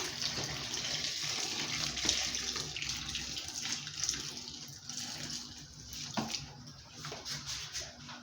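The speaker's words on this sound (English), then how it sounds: "This is hot water." Hot water poured into a pot for light soup, cooking pepper and onions, makes a steady, hissing splash that runs for several seconds, fairly close, with no speech.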